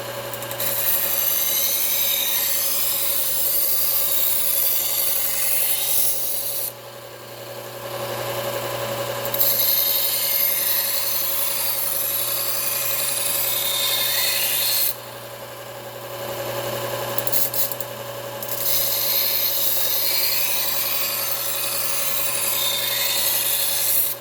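Cuisinart kitchen knife sharpened against a running belt, a steady abrasive rasping hum that continues without a break and drops out twice for a few seconds between passes.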